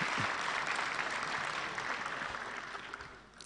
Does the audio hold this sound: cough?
no